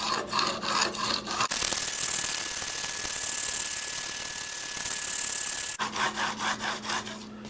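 A Swacker 252 broadhead is rubbed rhythmically across a 400 grit sharpening surface, with quick repeated strokes, then a long continuous scrape, then more short strokes, close and clear.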